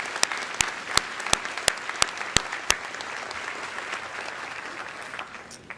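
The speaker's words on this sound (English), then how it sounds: "I would like to offer a round of applause for those families and local businesses that have sponsored an award." A senior awards night audience claps for sponsoring families and local businesses, with several sharp, loud individual claps standing out over a softer crowd patter that fades slightly toward the end.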